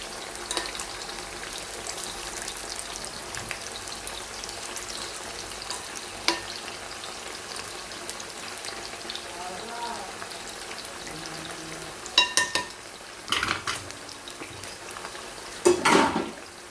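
Banana chips fry in oil for Onam with a steady bubbling sizzle, and a spoon stirs them with a few louder scraping bursts near the end. A person talks quietly over the cooking.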